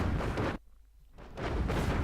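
Artillery cannons in the strategy game Planetary Annihilation fire in heavy, loud booming bursts, one rumbling blast, a short lull, then another sustained barrage, with no voices.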